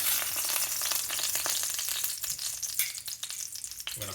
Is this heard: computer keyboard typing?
no